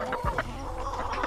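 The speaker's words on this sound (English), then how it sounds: "It's my favorite chicken." A favorite farm chicken clucks in a few short, fairly close calls over a steady outdoor background hum, with no talking.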